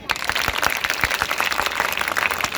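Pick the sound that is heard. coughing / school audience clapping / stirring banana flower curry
school audience clapping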